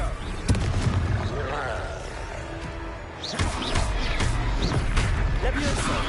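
Confringo blasting-spell explosions in a Hogwarts video game, booming impacts and rumbling blasts mixed with other game effects, under frequent spoken voices.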